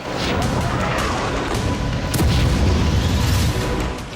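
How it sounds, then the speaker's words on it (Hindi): Heavy booming explosions from Israeli bombing in Gaza. Deep, rumbling blasts sit over a continuous loud roar, with one strong impact near the middle. "गाजा में इजरायल की बमबारी तेज हो गई है।"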